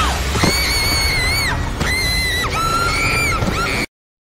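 Several loud, piercing screams in close succession, each a long wavering cry with breaks between, ending abruptly.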